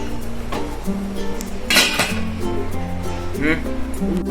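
A lid set down over a plate of steaming khaman dhokla in a home kitchen, a few metallic clinks and a louder clatter of the dish, with someone talking over it.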